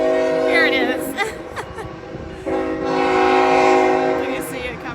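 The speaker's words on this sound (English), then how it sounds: "Of course a train is coming in Harpers Ferry." A train passes through Harpers Ferry, West Virginia, blasting its horn in long loud chords with a brief gap, under rumbling rail noise close by.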